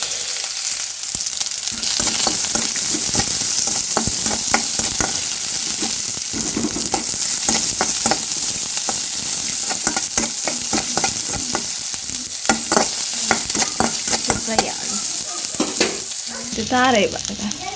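Chopped onion and garlic sizzle steadily in a hot pan for a Tulu-style chicken green masala, with repeated scraping stir strokes throughout, loud and close with no voices.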